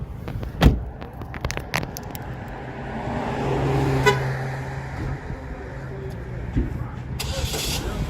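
A 2008 Pontiac G6 starts by remote: a horn chirp, then the engine cranks and settles into a steady idle nearby, with someone talking over it.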